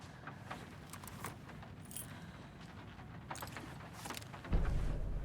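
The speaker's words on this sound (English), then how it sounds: "You'll need these keys." A bunch of keys jangling as they are handed over in the game Alan Wake 2, a light metallic rattle under low background ambience, then a sudden low rumble at the end.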